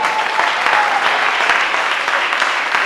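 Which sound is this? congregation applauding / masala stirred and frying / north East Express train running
congregation applauding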